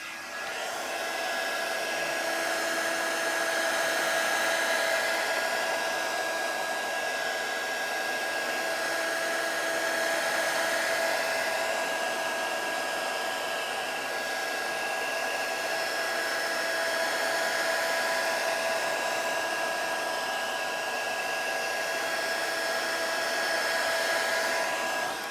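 A heat blower warms the frame of a cracked Samsung Galaxy Tab 3 to loosen the glue, running as a continuous steady whine with a faint tonal hum for the whole stretch, with no speech.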